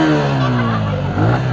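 A Yamaha R15 sport motorcycle engine hums steadily and close by at moderate revs, with a slight pitch rise near the end and faint voices in the background.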